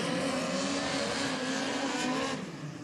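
A midget race car engine screams at high revs on a speedway oval, a dense sustained roar that holds steady and then eases off near the end, with no talk over it.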